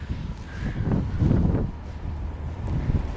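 Blizzard wind in Chicago gusts and buffets the microphone, a loud low rumbling roar that swells and eases over a few seconds.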